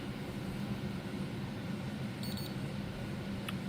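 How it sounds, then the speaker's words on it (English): An OBD2 scanner box beeping during a firmware upgrade, a faint short burst of rapid electronic beeps and then a single brief beep later, over a steady low hum. "Heard the box beep, so it seemed to have done something."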